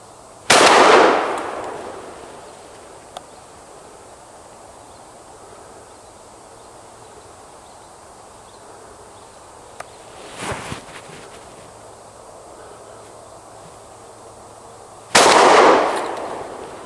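Two loud, sharp gunshots ring out while hunting on an opening day near an oak tree, one at the start and one near the end, separated by quiet outdoor ambience with a faint rustle in between.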